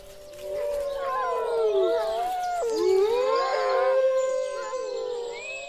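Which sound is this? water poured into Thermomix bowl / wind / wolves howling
wolves howling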